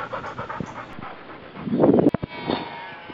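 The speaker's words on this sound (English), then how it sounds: "we're hunting with three dogs" Hunting dogs panting on a sheep and beef farm in New Zealand, rapid close breaths that grow heavier and louder midway, followed by a few sharp sniffs.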